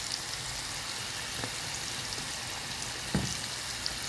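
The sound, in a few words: onions coated in flour and cumin frying in a pan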